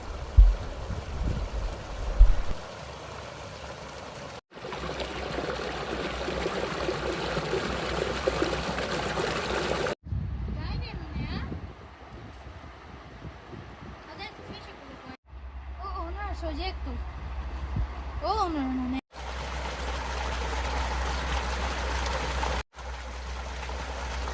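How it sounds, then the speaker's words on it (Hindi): Clear spring water running down from a mountain into a village fish pond, a steady rushing flow heard across several separate segments, with speech over parts of it. "तो ये पानी ऊपर चश्मे से आता है।"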